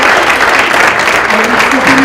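An audience at a university scholarly event claps loudly and continuously for certificate recipients, a dense close wash of applause with a voice briefly heard over it.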